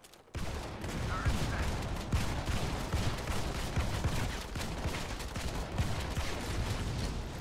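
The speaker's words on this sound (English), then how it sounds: "I think everyone's using shotguns." Rapid gunfire in the shooter Modern Combat 5 on PC during a 5-on-5 match, dense overlapping shots crackling continuously after a brief quiet start, with some faint voice underneath.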